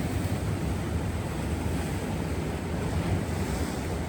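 Surf breaks along the Kailua Kona shore during the winter's first big swell, a continuous loud wash of waves mixed with gusting wind buffeting the microphone, no voices.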